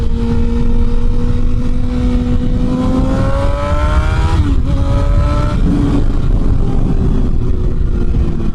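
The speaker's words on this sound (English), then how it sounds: "The way this bike just makes you kind of want to rip through the power band just a little bit more with each gear" A Yamaha hypernaked motorcycle accelerates hard through the gears on a tree-lined road. The loud engine rises steadily in pitch, drops briefly at a shift, then climbs again, all under constant wind rush.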